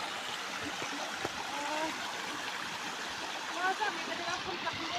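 Mountain stream water flowing steadily near a kutki herb field in the Himalayan hills, a continuous rushing and trickling wash with faint splashes, moderately close and even throughout.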